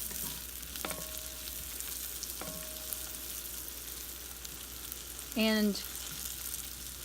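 Herbs sauté in butter or oil with a faint, steady frying hiss beneath quiet kitchen sounds. A few light clinks ring out early, a brief voice cuts in near the end, and a short squeaky scrape follows.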